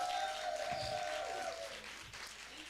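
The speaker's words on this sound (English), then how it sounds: "Give her another round of applause" An audience at a caregiver expo applauds, heard faintly and at a distance. Soft, steady clapping continues for a few seconds under a thin tonal hum.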